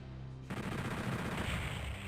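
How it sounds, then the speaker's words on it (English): Super shotgun fire in Doom 64 erupts as a dense, loud run of blasts right after a brief lull, with no talking. "it's much better just to shoot until the random spread of the super shotgun gets it"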